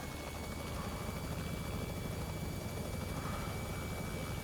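Robinson R66 helicopter in the X-Plane 11 flight simulator, a steady rotor and turbine drone with a thin high whine running continuously throughout.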